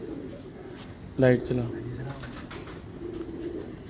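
A pet pigeon coos once, a short throaty burst up close, with a fainter follow-up, while people talk nearby in a loft or courtyard.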